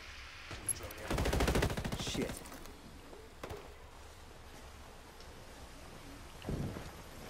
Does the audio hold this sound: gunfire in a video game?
yes